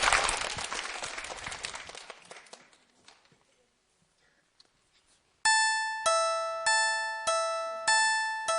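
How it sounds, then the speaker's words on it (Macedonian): Applause from a school assembly audience fades over about three seconds, then after a pause a repeating electronic chime sounds loud and close in regular bursts. "Ајде еден аплауз за Давид."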